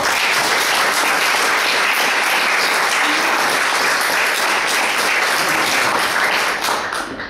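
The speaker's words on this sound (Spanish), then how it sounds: "Aplausos para Rocío Barceló." Sustained applause from the audience at a research presentation, a thick even wash of many hands clapping that stays loud and steady before thinning slightly at the very end.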